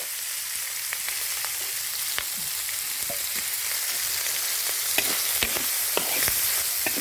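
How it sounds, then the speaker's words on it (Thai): Pork belly stir-fried in a pan makes a steady, loud sizzle with scattered sharp crackles and pops throughout, and no voices. "ผัดหมูสามชั้นให้หอม ไปเรื่อยๆก่อนค่ะ"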